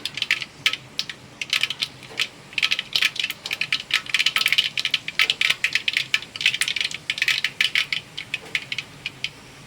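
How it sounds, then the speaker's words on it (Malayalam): Mustard seeds crackle and pop in hot oil for tomato rice, a dense run of sharp, rapid snaps that keeps going at close range with no talking. "കടുക് പൊട്ടി വരുന്നുണ്ട്."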